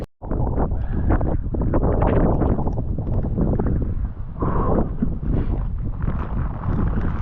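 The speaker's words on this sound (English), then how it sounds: "the wind is getting pretty strong" Strong gusting wind on a mountain above a lake, roaring steadily and loudly into the microphone with heavy buffeting throughout, no voices heard.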